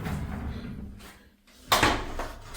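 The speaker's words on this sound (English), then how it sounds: "Mirrored sliding door." A mirrored sliding closet door in a small room with a sink and microwave rumbles along its track, pauses briefly, then closes with a sharp knock and a short rolling tail, heard up close.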